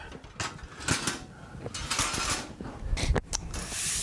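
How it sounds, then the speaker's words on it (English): The folding wings of a compound miter saw stand in a small garage woodshop are moved, producing close, clattering metallic clicks, latches and short scrapes in quick irregular bursts. "Okay, so these wings fold up here"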